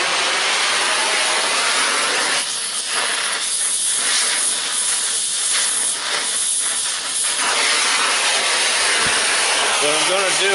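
Torch roaring with a steady loud hiss while preheating the metal of a big truck's muffler pipe, continuous throughout with a brief dip near the end.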